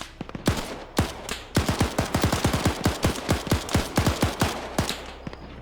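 M249 machine gun fire in a video game, heard as loud, close bursts of rapid shots, first a few single cracks and then long stuttering strings of fire with short gaps between them.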